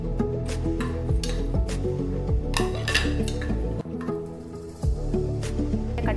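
Cashews, cloves, peppercorns, cinnamon and cardamom fry in a pan for paneer biryani, with a spoon clinking and scraping in steady, close stirring over a continuous background bed.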